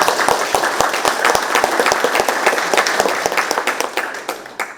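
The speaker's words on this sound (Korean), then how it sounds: "큰 박수로 축하해 주시기 바랍니다" An audience claps to celebrate the signing of an implementation agreement for the Yeongju advanced bearing national industrial complex, a dense, steady round of applause with sharp individual claps that thins out near the end.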